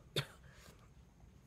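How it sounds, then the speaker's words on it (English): A single sharp cough from a person, close and brief, fading into a quiet room. "I've got to stop because I'm about to cough some more."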